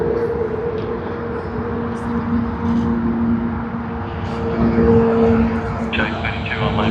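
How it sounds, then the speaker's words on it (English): A Boeing 787-9 airliner on its takeoff roll down runway 34L at Sydney Airport, heard as a loud, steady engine roar with a sustained tonal whine that swells slightly toward the end. "UA870 Sydney to San Francisco service on the Boeing 787-9 has begun its takeoff roll from runway"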